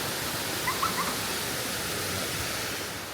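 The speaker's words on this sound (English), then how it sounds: "we are here at Afu A'au waterfalls" Afu A'au waterfall on Savaii, Samoa, pours as a steady broadband rush of falling water, constant and moderately loud, with a few faint bird chirps above it and no talk.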